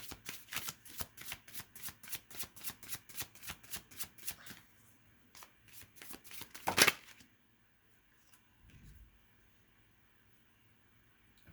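Tarot cards being shuffled give a run of quick, regular riffling bursts up close, then a sharp louder card snap, followed by quieter handling sounds.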